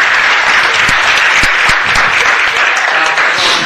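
A city council meeting audience gives Doctor Foster, a man from Louisville, loud, sustained applause, a dense roar of clapping with a few sharper claps standing out near the front.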